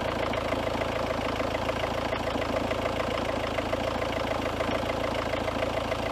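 A car engine held at raised revs of about 2,500 RPM during a battery load test, a steady even drone with a constant low hum, close and unchanging, with no talk.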